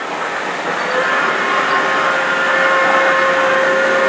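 A steady train whistle tone holds for several seconds over continuous rumbling engine and track noise, close and fairly loud.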